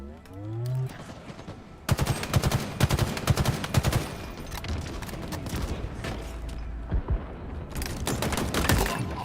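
Sustained bursts of automatic machine gun fire in a Halo match, with rapid dense volleys starting about two seconds in and continuing in waves, loud and close, with a brief game voice cue near the beginning.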